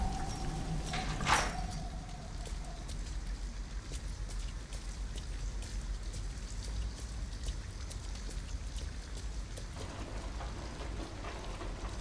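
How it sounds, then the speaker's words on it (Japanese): Steady rain falls in the video game Detroit: Become Human, a soft, even hiss of drops on surfaces with a brief tonal blip near the start, continuous and fairly quiet throughout. "とりあえず雨をなんとかしなきゃね。"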